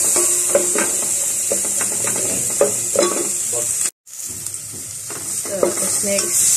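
Onions sautéing in a pan for a budget spaghetti, a loud close sizzle with repeated scraping stirs, cut by a momentary silence midway before the frying resumes.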